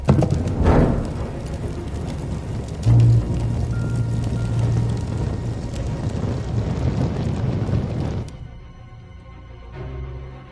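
Horses' hooves clip-clopping in the Telltale Game of Thrones video game, a busy rumbling gallop under wind-like noise and game sounds that cuts out sharply near the end.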